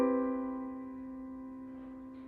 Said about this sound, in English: we need to add a 4th note following that same every other pattern